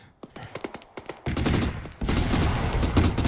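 Rapid gunfire aimed at an APC in the ARMA 3 video game, with sharp separate shots in quick succession that swell into dense sustained bursts of automatic fire, loud and close.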